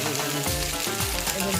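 Pasta for egg pasta dropped into a hot pan, producing a loud, unbroken close sizzle with a tonal layer running underneath.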